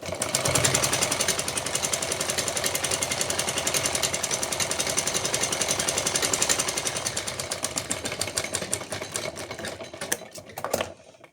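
Sewing machine stitching together pieces of a small decorative dress for a goddess idol, a steady rapid mechanical chatter running continuously and fairly loud, slowing and stuttering near the end.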